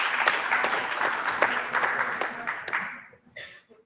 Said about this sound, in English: Please, applause for.